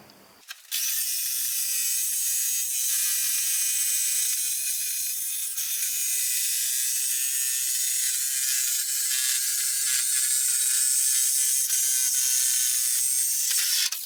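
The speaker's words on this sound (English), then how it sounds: "And now I'm going to take my jigsaw up this way instead of coming down on myself." A jigsaw cuts a curve in a camper van panel for a window opening, starting with a click and then running loud and steady without a break, a high buzzing whine carried through to the end.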